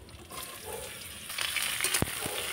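Tender bottle gourd dropped into a pan over a tempering of bay leaf, cumin and green chilli, a soft hiss that swells into a brighter sizzle with a sharp clink, close by.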